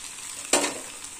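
A beaten egg is poured into sheep brain masala already frying in a pan, giving one short burst of sizzling over a faint background hiss.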